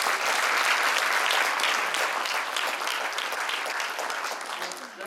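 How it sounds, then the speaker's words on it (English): A crowd claps in a dense, sustained round of applause that stays loud throughout and tapers slightly toward the end. "a round of applause for"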